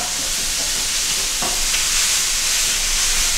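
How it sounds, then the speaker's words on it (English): Meat browns in a hot pan with a loud, steady sizzle and hiss close up, joined by a few faint stirring scrapes, and no one speaks. "And brown the meat first."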